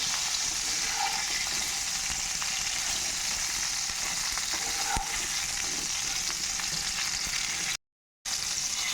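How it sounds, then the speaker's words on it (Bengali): Pointed gourds (potol) fry in oil in a pan while being stirred, a continuous close sizzle with occasional scraping stirs and a brief dropout near the end; no one speaks. "পটলগুলোকে একটু নেড়ে চেড়ে নেবো"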